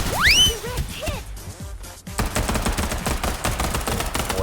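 Gunfire rings out in the video game Farligt 84, with rapid bursts of close shots after a rising whistling tone, continuing as a dense rattling stream of reports.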